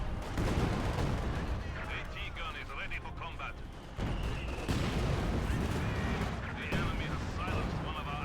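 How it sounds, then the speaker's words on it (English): Pak 40 anti-tank gun and T-34 tank cannons boom through dense Company of Heroes 2 battle noise, with a commentator talking over the loud, continuous gunfire. "Good shot from the Pack 4 and the T-34."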